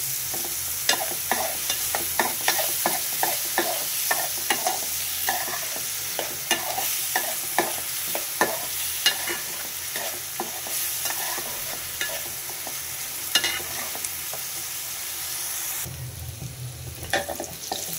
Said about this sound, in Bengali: পেঁয়াজটা আমার লাল লাল হয়ে ভাজা হয়ে আসছে